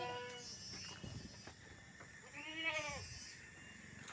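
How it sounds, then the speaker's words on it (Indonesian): Goats in a village pen bleat a few times, moderately close but fairly quiet, with a wavering cry standing out amid low background murmur. "Bukan domba ini tapi kambing ya."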